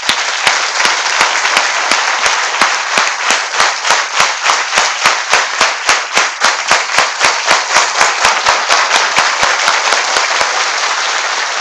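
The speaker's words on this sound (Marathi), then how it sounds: "एकदा स्वतःसाठी जोरदार टाळ्या" A large audience at a teachers' event gives loud, steady, rhythmic clapping in unison, sharp and close, continuing for about ten seconds before stopping.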